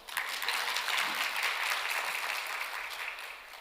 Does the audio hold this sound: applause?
yes